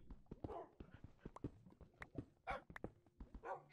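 Minecraft dogs barking in short, repeated yips and woofs along with clicky game sounds, moderately close and a little busy, with no talk over them.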